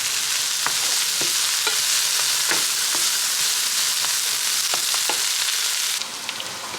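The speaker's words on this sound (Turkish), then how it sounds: "Bunu bir güzel kavuracağız." Steady loud sizzling of butter frying in a hot pan, with occasional scraping stirs, continuous throughout before easing slightly near the end.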